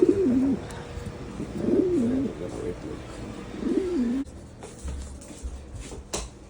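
A pet pigeon coos three times, soft low rolling calls repeated at a steady pace; a voice speaks quietly around them.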